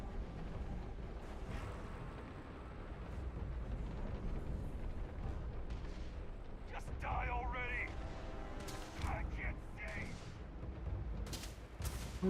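Starfield gunfire pops in scattered shots with a few sharper bursts toward the end, mid-distance, under a steady game background while a voice talks over parts of it.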